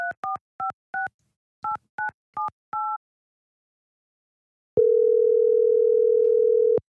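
Touch-tone telephone dialing: a quick run of eight paired-tone beeps in two bursts, then a pause and one long, loud steady ring tone on the line.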